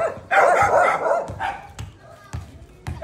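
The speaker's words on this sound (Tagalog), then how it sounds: "meron dito mga asong maiingay na kung saan hindi dapat sila mag-react" Several noisy dogs bark in short sharp bursts at a busy spot crowded with people, children and passing vehicles, loud close yaps alternating with quieter pauses.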